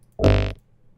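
Ableton kick wall-omp sample repeated into a buggy, buzzing burst, one short rasping sound lasting about a third of a second, close and dry.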